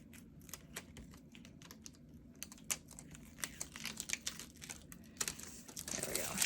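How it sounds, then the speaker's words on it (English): Clear planner stickers are peeled from their backing sheet in a run of soft, close crinkles and sharp ticking snaps, growing denser toward the end, with light background rustle. "Let me pull the backing off of this so it's easier to pull up the stickers."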